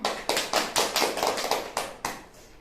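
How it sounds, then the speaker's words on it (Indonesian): Children in a primary classroom clap together in a rhythmic burst of about nine bright, evenly spaced claps, fairly close and steady before trailing off, with no talking over them. "Tepuk tangan buat kalian"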